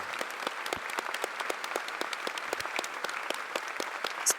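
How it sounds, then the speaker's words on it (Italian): An audience at a Rotary Institute conference at Centro Congressi La Nuvola in Rome applauds steadily to welcome a speaker on stage, a dense, even roar of many hands clapping throughout. "A big, big applause to Alberto."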